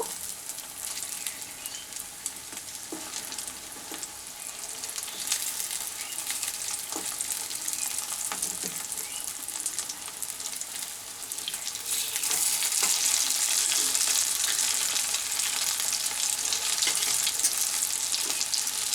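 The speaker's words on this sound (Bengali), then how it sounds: "আমি এই পিঠটাও ভেজে নেব।" Dhoka lentil cakes frying in a pan of oil, a continuous close crackling sizzle that holds steady and grows brighter and louder partway through, with no talk.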